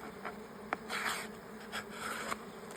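Honey bees buzzing at an open hive, a dense close drone with individual bees swelling louder as they pass near; no talking.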